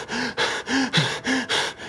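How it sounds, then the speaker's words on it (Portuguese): A person breathes heavily and rapidly, with about six rhythmic, rasping in-and-out breaths over two seconds, close and loud, with no other sounds. "que era o barulho da minha própria respiração"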